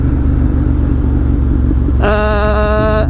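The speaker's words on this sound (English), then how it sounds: "Greg's on an R, I think it's a BMW R1200. It's got boxer engine." A BMW R1200 motorcycle with a boxer engine idles with a loud, deep, steady rumble; near the end a bright tonal horn or whine cuts in over the engine.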